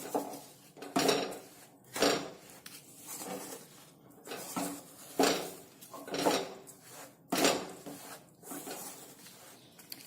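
Mung bean flour being stirred into a pan for ladoos, a spoon scraping and knocking against the metal in repeated strokes roughly every second, close and fairly quiet with no voices.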